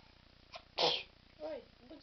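A single sharp sneeze, close and fairly loud, followed by a brief murmur of a voice.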